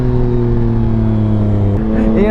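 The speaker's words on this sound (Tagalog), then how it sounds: "Ba't ganun yung tunog ng quick shifter niya?" A 2022 Yamaha Tracer 9 GT motorcycle droning steadily at close range, then a sudden pitch change as the quick shifter snaps through a gear, with a rider talking over the engine.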